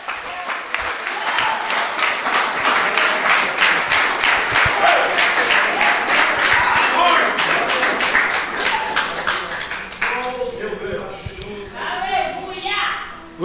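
Church congregation applauding during a sermon, loud sustained clapping from many people with rhythmic tapping peaks, thinning toward the end as scattered voices and shuffling take over.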